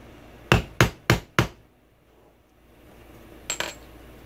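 A rivet driver is struck with a hammer to set a cosplay rivet, producing four sharp, close metallic taps in quick succession, then a pause and two lighter taps.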